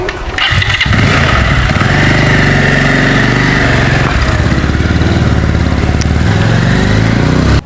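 A motorcycle engine runs loudly and close up, a steady rumbling idle with a faint whine, no voices over it.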